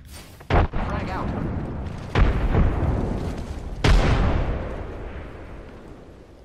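Three frag grenade explosions in the video game Apex Legends boom one after another, each a loud, sharp blast followed by a long rumbling decay, spaced a couple of seconds apart.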